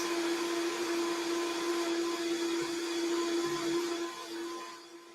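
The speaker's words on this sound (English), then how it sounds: "So I have to wait until the blender stops." A household blender runs with a steady, loud, whirring drone that holds constant for several seconds, then eases off toward the end.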